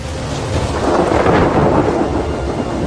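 A thunderstorm in Kakadu, Australia: heavy rain hisses steadily while a deep roll of thunder swells and fades through the middle, loud and enveloping, with no voices.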